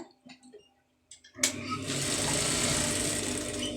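A sewing machine stitching a shoulder seam on a garment. A few faint clicks and handling taps come first, then the motor starts and a loud, steady rapid stitching whir runs to the end.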